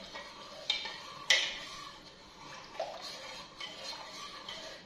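Spiced chicken is stirred by hand in a bowl, giving soft wet squelches and a few sharp clinks against the bowl, quiet and close, with no talk.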